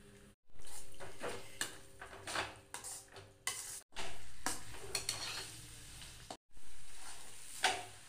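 Four eggs sizzling in a pan with shredded leftover chapati for kothu, stirred and chopped with a metal utensil in repeated bursts of scraping and clanking over a frying hiss, with a few brief pauses between strokes.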